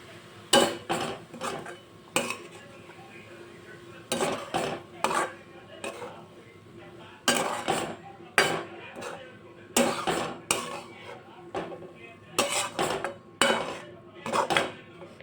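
A metal spoon scrapes and clacks against a pan while paneer stuffing is mixed, close irregular bursts of knocking and scraping with short pauses between strokes, no talk.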